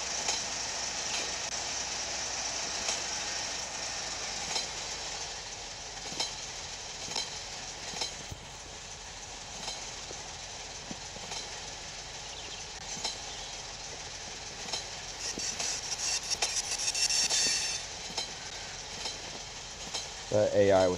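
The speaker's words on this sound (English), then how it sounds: "Oh, we got an AI freight train." AI-controlled freight train hauling grain cars in the simulation game Train Sim Pro USA, a steady rolling rumble with faint rhythmic clicks passing at moderate distance, with no talking.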